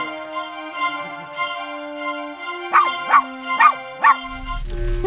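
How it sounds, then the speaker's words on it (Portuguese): A cartoon dog gives a series of bright, yappy barks and whimpers, four quick loud yips clustered together over a sustained musical backdrop, with a low rumble entering at the end. "Eu acho que esse cachorro quer falar alguma coisa."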